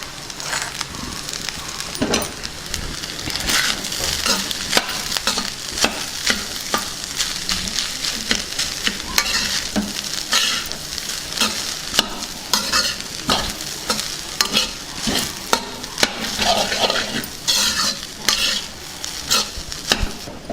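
Tempered popannam rice is stirred in a frying pan, with a busy run of close scraping, tossing strokes and irregular clicks over a continuous sizzle, lasting about twenty seconds.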